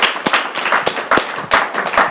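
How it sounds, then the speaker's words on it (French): A small gathering at a school-kit handover for children with disabilities claps unevenly, with a few close, sharp hand claps standing out over scattered softer clapping. "Est-ce qu'on peut applaudir?"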